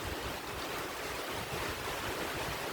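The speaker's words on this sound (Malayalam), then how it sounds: "അതും നല്ല കാറ്റ് പോലെ നല്ല കാറ്റ് കേട്ടോ" Strong wind roars steadily through a rainstorm, a dense, loud rushing wash that fills the whole stretch without a break.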